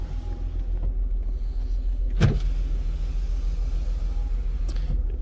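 Power windows on a Mercedes with a cylinder misfire whirring under a steady low engine idle rumble, with a short sharp thump midway and another faint whir near the end, no talking.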